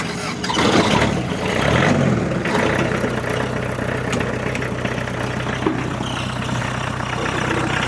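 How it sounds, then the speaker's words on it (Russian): A Kubota X20 four-cylinder tractor engine sputters to life, then settles into a steady, soft mid-pitched idle that drones on evenly close by. "Гудит трактор мягко, так как, напоминаю, он 4 цилиндра"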